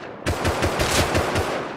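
Rapid automatic gunfire in the video game Rust, a loud close burst of evenly spaced shots lasting under two seconds with no talk over it.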